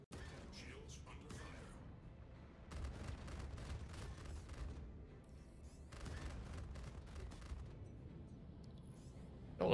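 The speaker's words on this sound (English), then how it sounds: "I'm just gonna end it with missiles here" Missile launches and blasts from a space combat game, a dense stretch of crackling, rumbling fire and explosions under engine hum, swelling and easing in waves throughout.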